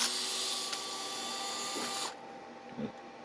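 A small powered hex driver runs steadily as it backs a screw out of an MST RMX 2.0 RWD drift RC car, a continuous whirring motor whine that cuts off after about two seconds, followed by a faint clicking handling noise.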